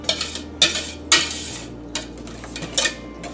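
A utensil scrapes and taps around the corners of a pan of thick cream sauce on the stove, close and intermittent strokes over a quiet background hum, with no talking.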